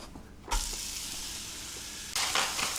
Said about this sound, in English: Going to do the frying in 2 batches.